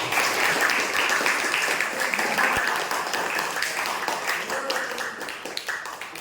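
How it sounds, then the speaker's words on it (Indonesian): An audience in a classroom applauds a group after its presentation, with steady close clapping from many hands that fades slightly toward the end. "Beri tepuk tangan kepada kelompok 1."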